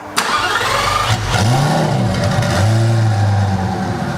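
A twin-turbo Lamborghini Superleggera engine running E85 cranks and fires up loudly on a dyno, then settles into a rough, rumbling idle with a few uneven revs, close by.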